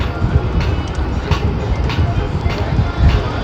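A Bullet motorcycle being ridden home in the evening. It gives a steady, close, low engine rumble with wind buffeting and road noise the whole time.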